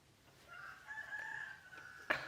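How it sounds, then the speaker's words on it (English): A rooster crows indoors-distant in a quiet home, one long drawn-out call rising and holding before a short sharp sound at the end, faint against soft background. "My rooster is very loud."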